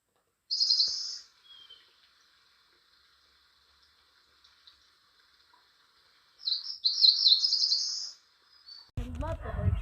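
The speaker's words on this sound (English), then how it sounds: "I love the birds here at this park." Birds singing in a park, with two bursts of high chirping song separated by quiet, then a low thump and rustle at the very end.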